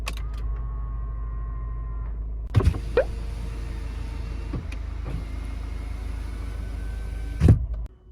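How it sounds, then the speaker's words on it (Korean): Electric folding side mirrors on a Hyundai Santa Fe DM whir as the motors run, with a muffled clunk as they start and another as they lock at the end, all inside the cabin over a low steady rumble. "접이식 사이드 미러"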